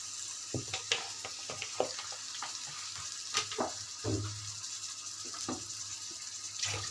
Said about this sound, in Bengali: আমি চুলায় কড়াই বসে দিয়েছি, তার মধ্যে এখন আমি তেল দিয়ে দিচ্ছি।